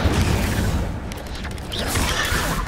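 Incendio fire spell in Hogwarts Legacy, a loud whooshing burst of flame with a rumbling low boom, continuous for a few seconds with no talking.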